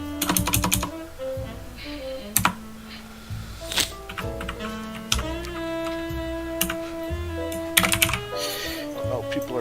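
Computer keyboard typing during a tabletop role-playing game session, rapid clustered clicks and key taps, close and fairly loud, with people talking and musical tones in the background.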